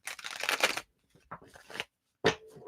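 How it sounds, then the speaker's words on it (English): A deck of playing cards being shuffled in a dense riffling burst, then a pause with a few lighter card sounds, and finally one sharp knock as the deck is banged on a table, close and clear with no talk. "I shuffle and then I bang the deck on the table."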